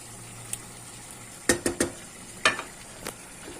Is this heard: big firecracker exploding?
no